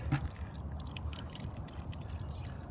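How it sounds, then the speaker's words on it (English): Tomato juice drains through a strainer after a whole tomato is broken up with a drill mixer, giving a soft, steady trickle and patter of dripping liquid close by, with no talking. "Do have my strainer and get rid of a lot of juice."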